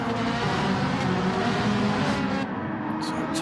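Ferrari race car engine in a racing video game, a steady loud high-pitched drone that stays close and continuous, with slight shifts in pitch and no voices.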